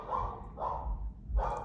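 A dog gives three short, muffled barks at a moderate distance, spaced evenly and fairly quiet, with no one talking.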